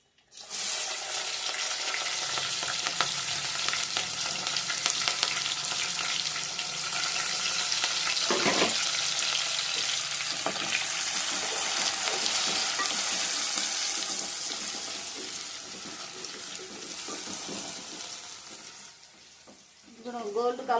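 Green chillies and onions hitting hot oil with curry leaves for a village-style gongura mutton curry, a loud, dense sizzle that stays strong, then eases off near the end, with occasional stirring clatter.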